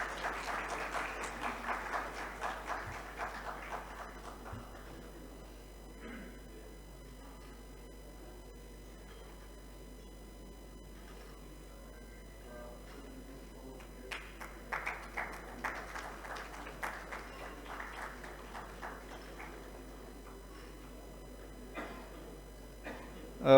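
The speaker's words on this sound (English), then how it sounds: "So please, once again, a round of applause for our esteemed chairpersons." Audience applause in the main hall of a conference session after a shield presentation to the chairpersons: a few seconds of fairly faint, distant clapping that fades into quiet room tone, with a smaller scattered patter of claps later on.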